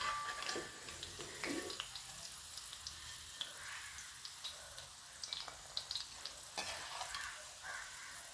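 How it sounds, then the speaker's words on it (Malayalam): Onions fry in oil for Hyderabadi dum biryani in a soft, low hiss, with light stirring scrapes and a few faint ticks and pops. "കുറേശ്ശെ നമ്മുടെ സവോള വറുത്ത് ഊരിയെടുക്കാം"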